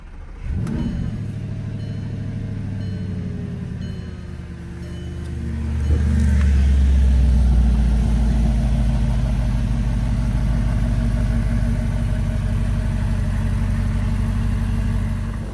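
A 2009 Audi R8 with a V8 and a full Capristo catback exhaust cranks and fires, its engine note swelling loudly around six seconds before settling into a deep, steady, rumbling idle.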